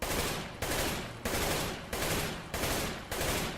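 Six evenly spaced AK-47 bursts in CS:GO, each a loud, sharp crack of rapid gunfire that decays before the next, repeating steadily with no speech.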